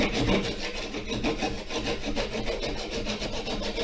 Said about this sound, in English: I'll just widen up the kerf a little.